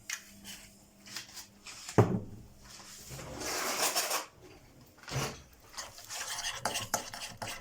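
A marinade with chili and olive oil being stirred, soft scraping and clinking strokes against a bowl in short close bursts, with no talk over it.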